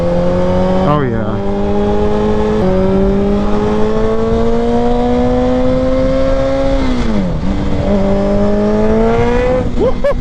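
A Suzuki Hayabusa motorcycle accelerates hard on a highway, its engine note climbing steadily through the gears with brief dips at shifts, loud and close with wind roar, and riders talk over it.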